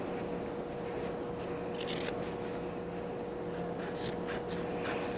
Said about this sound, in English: then you're going to cut here